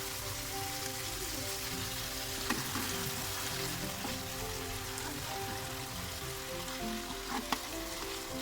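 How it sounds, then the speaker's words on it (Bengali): Soft fish and tomato sauté together in a pan, a steady close sizzle and crackle with a few sharp clicks of stirring. "টমেটো একসাথে দিয়ে দিলাম, দুটো নরম মাছ, সবগুলো একসাথে ভালো করে কষিয়ে নেব"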